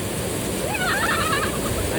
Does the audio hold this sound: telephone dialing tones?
no